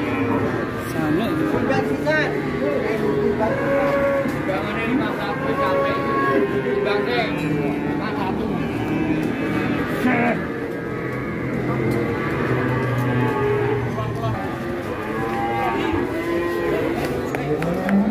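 Giant Pegon cattle bellow in repeated deep moos over a busy livestock setting, with people talking throughout and the lowing rising and fading at several points, fairly close.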